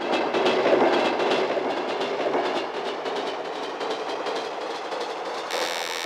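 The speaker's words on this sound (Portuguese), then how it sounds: "Aqui você tem os trens," Train sound effect voiced on a Casio CT-X5000 keyboard, a steady rumbling clatter with rhythmic clickety-clack of a passing rail car, loud and continuous throughout, with a brief shift to a different tone at the very end.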